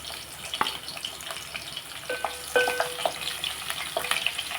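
Garlic fries in hot oil at the start of a ridge gourd fry, a close bubbling sizzle with a few sharp clicks and spoon scrapes, fairly steady throughout and with no talking.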